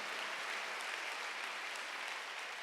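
A church congregation at a Wednesday worship service claps steadily, a dense, even roar of many hands that holds without pause.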